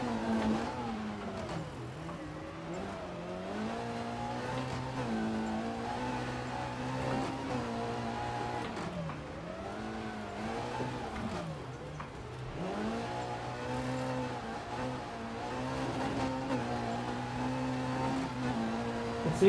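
A rear-wheel-drive rally car engine on snow in the game EA Sports WRC drones and revs continuously, its pitch rising and dipping with gear changes and throttle, steady and fairly loud throughout.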